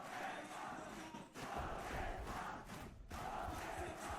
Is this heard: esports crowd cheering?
yes